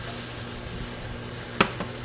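Chicken sizzles in a pan with a soft steady frying hiss, broken by a single sharp click or scrape of a utensil near the end.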